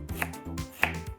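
Knife slicing fresh ginger on a cutting board, two crisp cuts roughly half a second apart, close and fairly quiet with a low hum beneath.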